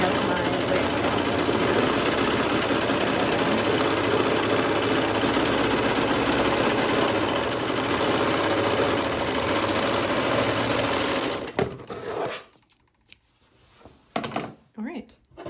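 A serger runs in a fast, continuous buzzing stitch for about eleven seconds while finishing the facing edge on overalls pant pieces, then stops, followed by a few soft handling sounds.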